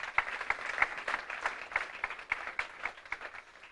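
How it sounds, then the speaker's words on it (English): A school audience gives a round of applause, many hands clapping in a steady, dense patter with a few crisp individual claps standing out, gradually thinning toward the end. "A round of applause for him as well."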